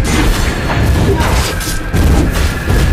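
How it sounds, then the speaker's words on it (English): Turret destruction explosion in the Mobile Legends mobile game, a loud dense booming crash layered with game effects, sustained and close over about three seconds. "Your team destroyed a turret!"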